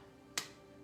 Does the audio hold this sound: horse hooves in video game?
no